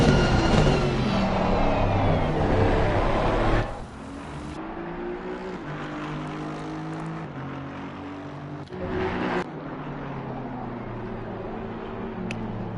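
Race cars lap Spa-Francorchamps in the sim racing game Assetto Corsa Competizione during a driver-swap league round: loud, steady engine roar with shifting pitch as a car accelerates, then a quieter drone and another rise as cars pass.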